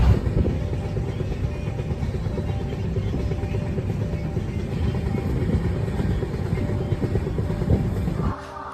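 A Mysore–Jaipur superfast train runs at night, giving a steady, loud rumble of wheels and carriage noise throughout that dips briefly near the end, with no one talking.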